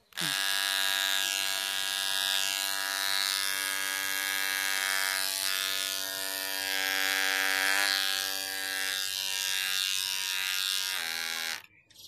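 An electric hair clipper buzzes steadily and loudly while shaving a head down to zero, a close, unbroken droning whine that holds for the whole stretch and cuts off near the end.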